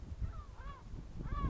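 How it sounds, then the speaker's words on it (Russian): Several gulls call faintly in the distance near a nest on a stony shore, drawn-out cries over a loud rumble of wind and surf. "Чайки орут."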